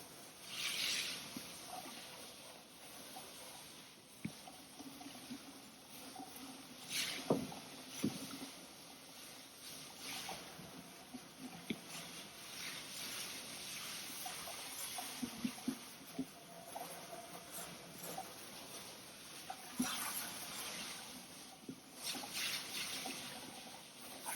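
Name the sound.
water washing out the floor scrubber reservoir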